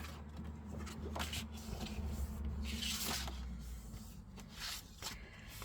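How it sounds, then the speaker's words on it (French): Paper is creased into a fold for a handmade pop-up album. A few soft, close rubbing swipes sit over a faint low room hum, with no talk. "Et je fais un pli."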